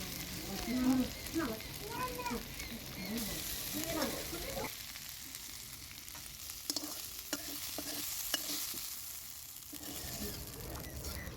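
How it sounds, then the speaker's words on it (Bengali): Chopped onion and prawns frying together in a pan, a soft sizzle with stirring and scraping, louder clatter early on before settling into a quieter steady fry with occasional clicks. "পেঁয়াজ কুচি আর চিংড়ি মাছটা ভালো করে একসঙ্গে ভেজে নিতে হবে"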